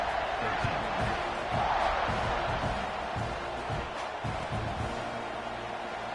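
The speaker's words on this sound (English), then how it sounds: "this crowd is buzzing after that last score" Stadium crowd roaring and buzzing in a college football video game featuring Texas A&M after a score, a dense steady wall of cheering with occasional louder swells and no clear single voices.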